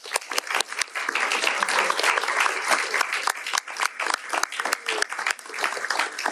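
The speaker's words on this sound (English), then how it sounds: "And a round of applause, everybody, for all the hard work that was." Applause from a crowd of attendees at a bill signing with Governor Bob Ferguson, dense and continuous for several seconds, with individual sharp claps standing out over the steady wash.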